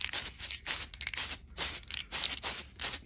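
Spray paint hisses onto a masked-off Tamiya Volkswagen Beetle lexan body hood in short bursts, black applied in light coats, each burst separated by brief pauses, close and fairly loud.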